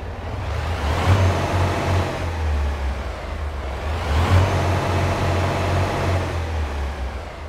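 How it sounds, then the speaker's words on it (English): A simulated DD15 Detroit diesel engine in a fifth-generation Freightliner Cascadia truck in American Truck Simulator idles with a deep, steady rumble, swelling in two gentle rev-like surges, loud and alone. "the DD15 Detroit engine sounds you hear today is just what you can expect"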